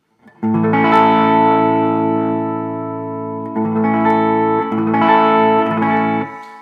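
ES-335 electric guitar on the neck pickup with volume rolled from 10 to 8, a clean, glassy tone, sustained chords ringing out, restruck midway and again near the end, with a little reverb.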